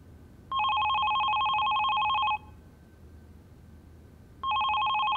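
An indoor telephone rings in a sharp electronic double-tone pattern, with one long burst of ringing, a pause, then the ringing starts again. It sounds clear and fairly close.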